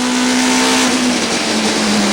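A 1998 touring car at Killarney circuit races past with a loud, sustained engine drone, its pitch holding and dipping slightly as the pack heads around the back of the track.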